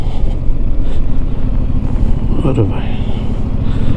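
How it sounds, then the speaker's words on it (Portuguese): A 2021 Yamaha Tracer 7 motorcycle's engine revs steadily and loudly up close throughout a test ride, with a brief rise in pitch, while a rider speaks over it. "O acelerador é só um toquezinho e ela manda logo um encontrão."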